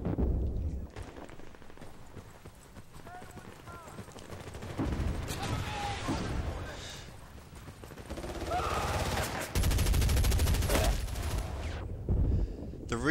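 Assault rifles fire in the video game Medal of Honor in dense, rattling bursts and sustained volleys, with some heavier blasts and a voice talking over the shooting.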